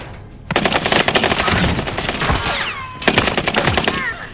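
Rapid automatic gunfire in the video game Call of Duty: Modern Warfare, two loud close bursts of quick rhythmic shots separated by a short gap, with faint game voices in the background.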